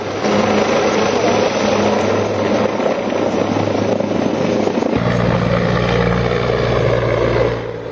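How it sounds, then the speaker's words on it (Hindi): Helicopters flying over hills during a search operation, a loud, continuous rotor drone and engine roar close overhead, its pitch and tone shifting about halfway through, with no voices over it. "हेलीकॉप्टर्स उनका सर्च ऑपरेशन कर रहे हैं पहाड़ियों में।"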